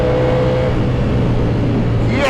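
Loud and close, a Ducati Panigale V4 SP2 motorcycle engine roars continuously as it drops through the gears, with pitch shifts and a rising rev burst at the end.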